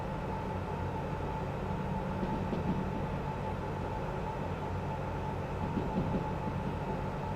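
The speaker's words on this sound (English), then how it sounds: "because I've got the retarder going, as you can probably hear." Steady low rumble and hiss of a DH4 diesel-hydraulic locomotive running its hydraulic retarder while braking downhill in the Derail Valley train simulator game, a continuous even drone with no talk.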